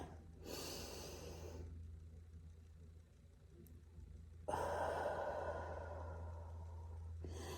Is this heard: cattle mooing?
no